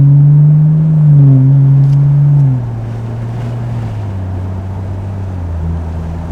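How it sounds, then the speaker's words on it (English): A BMW 440i with a B58 engine and its muffler deleted cruises in Eco Pro mode. From inside the cabin the exhaust drones low and steady, the pitch stepping down as revs fall, with no talk. "how the 440i B58 sounds like without a muffler"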